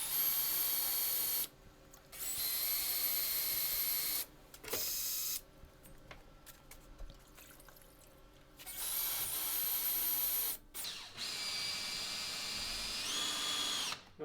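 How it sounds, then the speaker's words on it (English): Electric drill spinning wet paint roller covers to clean them, a loud steady whirring whine in several long bursts separated by short pauses, close by and alone. "You want to make sure you don't get that drill down too far"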